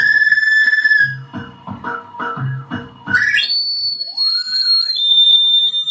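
A shrill, whistling feedback tone from a Monomaniacal Reincarnator feedback looper pedal over choppy guitar notes swells into screeching, pitch-bending squeals that sweep upward and hold, harsh and loud.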